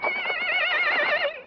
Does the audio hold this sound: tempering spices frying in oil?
no